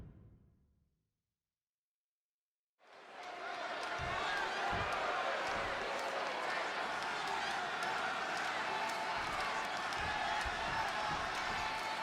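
Arena crowd in Chicago in the WWE 2K26 wrestling video game, a dense sustained roar that swells in after a brief silence and stays loud, with scattered shouts and a commentator talking over it.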